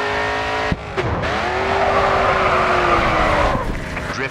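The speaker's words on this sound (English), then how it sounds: "Next corner, let's see a drift." A race car in GRID 2 drifts through a corner with a sustained, rising tire squeal over a loud, steady engine roar, broken by a couple of sharp thumps.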